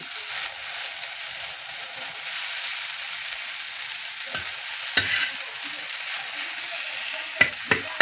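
Okra (bhindi) fries on a tawa with a continuous bright sizzle, broken near the end by a few sharp scraping stirs of a spatula against the pan.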